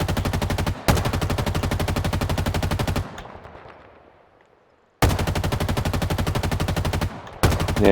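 Sustained automatic gunfire from the video game Halo Infinite, loud and close, in long continuous bursts broken by a short pause and a fading tail before firing resumes.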